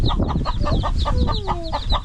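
Small chicks or fowl peep and cluck in a rapid series of high, close calls on a farm, loud and continuous over about two seconds without speech.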